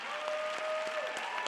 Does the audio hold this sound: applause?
yes